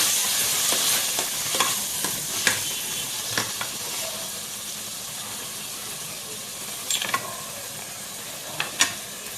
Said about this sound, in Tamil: இஞ்சி பூண்டு பேஸ்ட் போட்டுடுங்க நல்லா வதங்கிட்டு